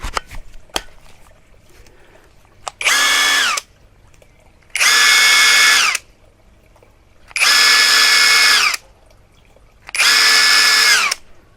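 An Ingco cordless brushless power tool with a metal gearbox whirs up in four bursts of about two seconds each, steady and high-pitched, with quiet pauses and a couple of clicks before.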